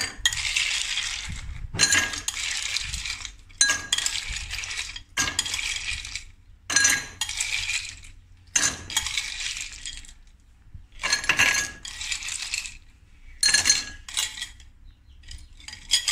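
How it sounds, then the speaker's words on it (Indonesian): Ice cubes drop into cermai fruit juice in a run of bright, clinking clatters, about nine separate handfuls spaced a second or two apart, each a sharp rattle against glass, close and distinct with no talking. "Okay, sekarang kita masukkan"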